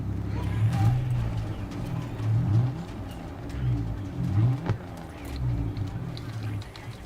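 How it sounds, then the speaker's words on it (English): A car with a full exhaust, dual tips and factory catalytic converter idles and gets several short throttle blips, each rev swelling and dropping back in a pulsing pattern, recorded up close. "Let me give it a couple revs."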